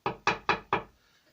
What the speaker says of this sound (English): So Sven knocked on the door.